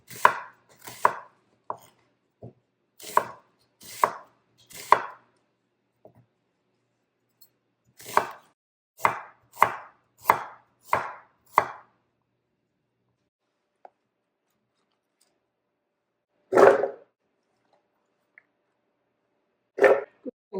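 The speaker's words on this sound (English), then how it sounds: "I'm also going to cut up an onion." A knife chops an onion on a cutting board in clusters of crisp, close taps, pausing between runs, then a couple of single heavier cuts near the end, with no talk.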